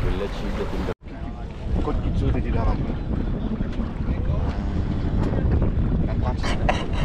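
A boat moves over water off Mauritius under steady, loud wind buffeting the microphone, with a brief dropout near the start and a constant rumbling wash.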